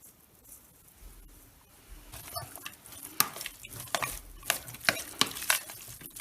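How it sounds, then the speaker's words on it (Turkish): Ground meat seasoned with chili flakes, cumin and thyme for çökertme kebab, stirred by hand in a bowl: soft squelching and patting that grows louder and busier after a quiet start, close up, with no talking. "Ve ardından karıştırıyoruz."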